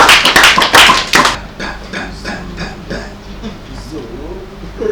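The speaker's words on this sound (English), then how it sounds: "Please let's give them a round of applause," An audience gives a short, loud round of applause at the start that fades after about a second and a half. Speaking voices follow and carry on through the rest.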